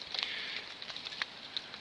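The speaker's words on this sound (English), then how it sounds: "we've got hail or snow or something happening" Hail or icy snow pattering down in the Rocky Mountains during a trail lunch, a steady fine crackle with scattered sharper ticks of pellets striking nearby surfaces, fairly faint and with no talking.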